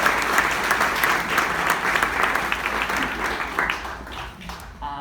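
Audience applause greeting a presenter as she comes up to speak, steady dense clapping from a room full of people that carries through the whole stretch and tapers off near the end.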